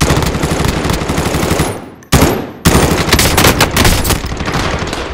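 Rapid automatic gunfire in a shooting video game, loud and continuous bursts with a brief gap near the middle before firing resumes at full intensity.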